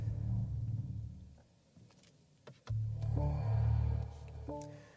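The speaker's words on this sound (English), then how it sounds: "if you want to hear the exhaust note when you fire it up, you need to put it into Sport Plus, or Sport mode" A 2025 BMW M5 in Sport Plus mode gives a deep, close exhaust rumble that sags to a quieter murmur, then swells back into a steady, throaty idle burble.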